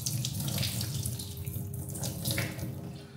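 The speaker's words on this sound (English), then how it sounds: "We're gonna go ahead and drain the liquid from our potatoes." Liquid from cooked potatoes is poured off into a kitchen sink, a steady close rushing splash of water lasting a few seconds with no talking.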